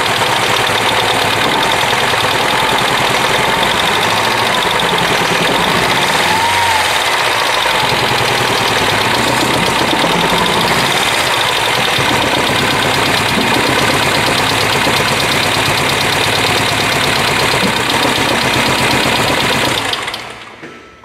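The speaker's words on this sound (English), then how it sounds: "let's get to the action already in progress with a rough running engine on this 2007" A 2007 Mini Cooper S engine runs rough at idle, a loud, close, continuous uneven churning with knocking vibration that holds steady before cutting off at the end.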